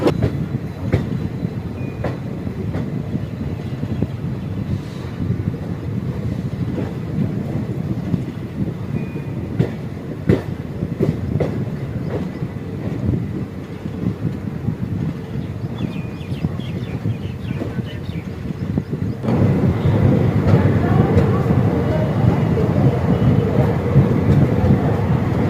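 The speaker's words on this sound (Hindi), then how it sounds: "चलिए हमारी ट्रेन को मिला है डिपार्चर।" The Nauchandi Express 14242 pulls away while heard from inside a sleeper coach, with a steady rumble and rhythmic wheel clatter over the rails that swells louder and rougher near the end, and no voices.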